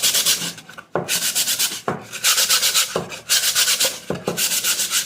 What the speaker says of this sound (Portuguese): lixa aqui a parte que onde foi feito os furos na parte, ali, ó, aqui na parte de baixo